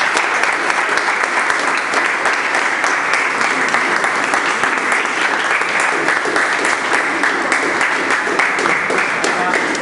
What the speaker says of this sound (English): I would like all of you to please give a hand of applause for Rama